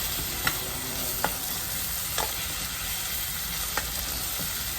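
Crushed garlic being stirred in a hot pan, a steady soft sizzle with a few distinct utensil scrapes spaced about a second apart, fairly quiet and with no talking.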